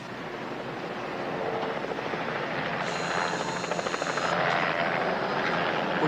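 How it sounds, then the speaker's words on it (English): A helicopter approaches from the distance over open water, its rotor chop and engine whine growing steadily louder with no voices over it. "Chopper coming in from the east."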